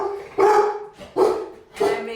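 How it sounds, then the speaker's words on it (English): A dog barks three times at an even spacing, each bark loud and close with a clear voiced tone, separated by short quiet gaps. "And I made the dog bark."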